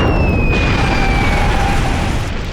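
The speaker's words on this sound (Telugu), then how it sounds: "బ్లాస్ట్ అవబోతోంది." A cartoon explosion from Motu Patlu, set off by two mixed chemicals, erupts as a loud, dense roaring blast with whistling tones sliding downward, sustained for a couple of seconds before easing slightly.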